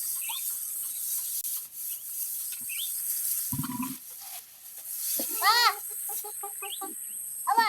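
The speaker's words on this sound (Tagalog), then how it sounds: "that's the grass she's cutting." Grass being cut by hand in a village setting, soft scraping and rubbing strokes under scattered bird chirps and a rooster-like call, with brief voices nearby.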